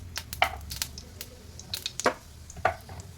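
Cumin seeds drop into hot oil in a pan and crackle in a few sharp pops and sputters. The sound is close and brief, with no talking.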